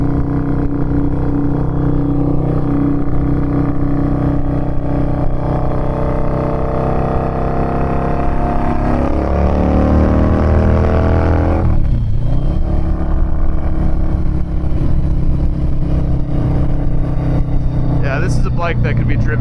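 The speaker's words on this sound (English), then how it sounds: "I'm a big fan of the kind of, that like racy exhaust on it" A 2006 Harley-Davidson V-Rod motorcycle with a racy aftermarket-style exhaust rumbles loudly and steadily, its engine note shifting in pitch as it revs and changes speed while riding.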